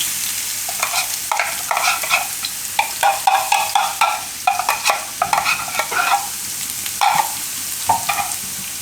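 Chopped garlic sizzles and fries in hot oil over low gas while a spoon stirs it, giving repeated scraping, clicking strokes over a steady crackle, close and fairly loud with no talking.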